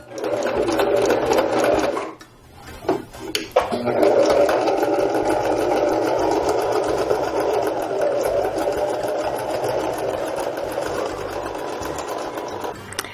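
A sewing machine stitching fabric, running in a fast steady whir, pausing briefly, then starting again and humming on continuously, close and loud.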